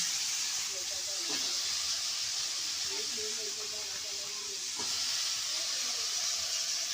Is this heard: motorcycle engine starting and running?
no